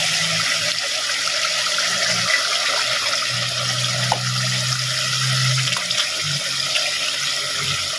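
Boiled squid cooking water is poured into a pot of simmering coconut milk, a continuous close splashing and trickling stream of liquid with low bubbling underneath.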